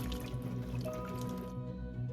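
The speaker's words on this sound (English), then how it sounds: "pour my 1/4 cup of vinegar inside the bowl" A quarter cup of vinegar pours into a bowl of beets for quick pickling, giving a soft, steady liquid trickle and drip close by over a continuous low hum.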